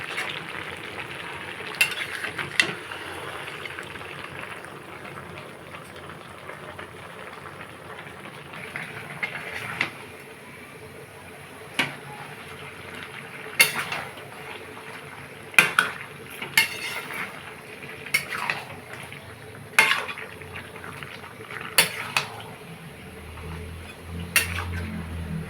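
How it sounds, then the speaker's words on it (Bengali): A lid comes off a pot of chicken with red hill potatoes, and a metal spoon scrapes and clinks against it while stirring. Sharp, scattered clanks sit over a soft, steady sizzle. "এখন ঢাকনা খুলে নেড়ে দেব, দিয়ে আলুগুলো দেব।"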